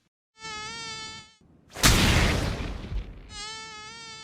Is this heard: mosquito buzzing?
yes